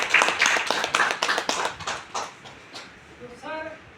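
Audience applause at a training program in Dharamsala, a burst of claps that fades over a few seconds, followed by a voice speaking.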